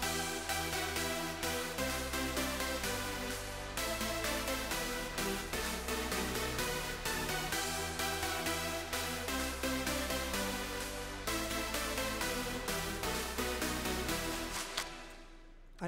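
An Ableton recreation of a supersaw: a wide, buzzy layered synth lead plays a melodic theme over steady pulsing bass and drums, fading out at the end.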